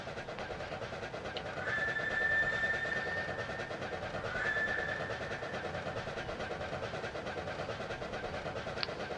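An East Broad Top Railroad train rolls past between Rockhill and Mount Union, a steady broadband rumble that swells and eases over several seconds, with faint whistle-like tones riding on top and no talk.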